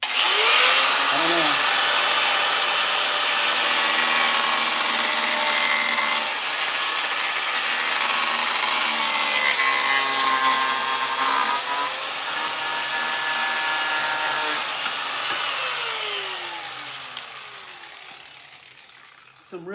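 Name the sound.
grinder used on bamboo wood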